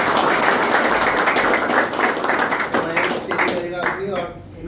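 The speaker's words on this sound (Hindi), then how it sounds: "बाकी एक बार दोबारा तालियां देंगे।" Applause from the audience at a sharing session in a Dehradun rehab centre, a dense, steady wash of many hands clapping that thins out toward the end, with voices mixed in underneath.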